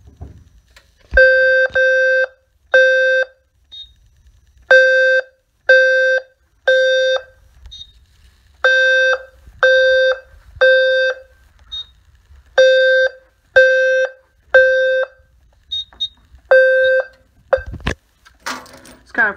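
A low-frequency fire alarm sounder, set off by an ADT pull station, sounds loud, steady beeps in repeating groups of three with short pauses between groups, close by, for the whole clip.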